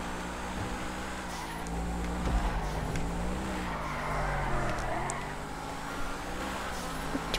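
A car in a Grand Theft Auto V online custom race engine roars steadily up close, its pitch dipping as it brakes, with faint tire scrubbing under the sustained motor drone.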